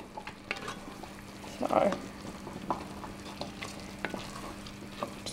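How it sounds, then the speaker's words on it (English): Pea and mint risotto is stirred in a pan, a low simmering sizzle with intermittent scrapes and knocks of a spoon, one louder burst of clatter near the start, and a single brief word spoken. "just continue stirring, agitating that, releasing the starch."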